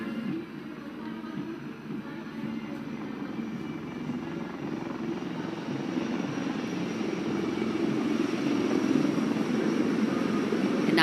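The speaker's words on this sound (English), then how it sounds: "The formation consists of 2 Dhruv helicopters and 2 Rudra helicopters, integrated with weapon systems." Four military helicopters, two Dhruv advanced light helicopters and two armed Rudra helicopters, fly past in formation at a Republic Day parade in India. Their steady rotor and engine drone grows gradually louder as they approach.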